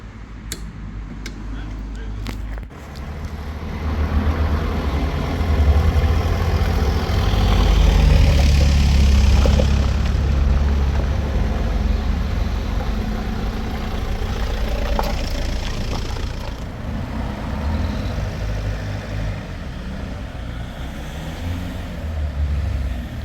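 A Land Rover engine rumbles low and steady while driving, a deep continuous drone that swells slightly and then settles, heard from inside the vehicle with a few faint clicks at the start and a voice talking over it at times.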